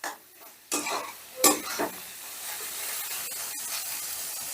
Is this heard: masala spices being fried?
yes